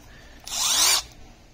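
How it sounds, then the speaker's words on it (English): A Milwaukee M12 Fuel hammer drill whirs in one brief, close burst, spinning up and running for about half a second before stopping. "It's the Fuel M12 hammer drill with the impact, and it's adjustable on top."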